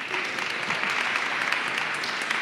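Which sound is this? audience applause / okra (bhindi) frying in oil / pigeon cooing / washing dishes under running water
audience applause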